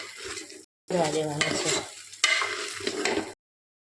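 Khichdi with dry spices and vegetables is stirred in a pan, a sizzling, scraping stir in two close bursts separated by a short pause, with no talk over it.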